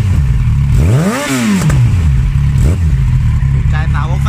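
A 2011 Yamaha FZ1 motorcycle with an R1 engine revs up sharply and falls back, then blips again briefly, loud and close over a rumbling idle.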